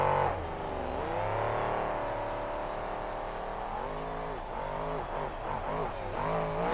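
Monster truck engine in a freestyle run, roaring loud and steady with throttle swells and revving bursts, with no talk over it.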